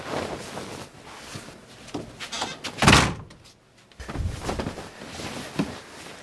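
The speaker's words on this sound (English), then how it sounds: "Hey, close the door!" A door slams shut with one loud, sharp thud in the middle, set against busy background noise before and after.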